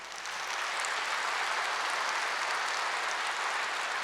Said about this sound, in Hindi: हाँ, जोर से ताली बजाइए।